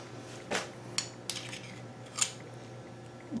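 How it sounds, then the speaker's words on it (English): Spoon and dishes clinking while turkey meatballs in squash shells are cooked: a few sharp metallic clinks and taps, spaced irregularly over a low steady kitchen hum, fairly quiet and close. "let me get another spoon here"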